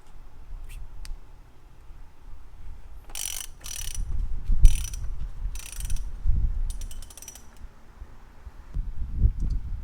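Oil filter housing being turned counterclockwise by hand or wrench on a BMW N55 engine in an E90/E92 335i, giving intermittent ratcheting clicks and bursts of scraping plastic under a quiet garage background, no speech.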